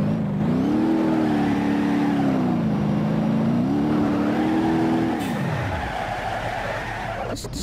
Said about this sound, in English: This car is really fast, I don't know what's going on.